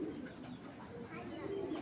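A racer pigeon gives soft, low cooing, quiet and close, over a faint background murmur.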